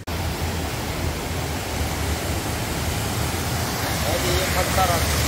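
A river in Fez, in the Qarawiyyin area, rushes in a steady broadband roar that holds even and continuous throughout, fairly loud with no clear voices over it.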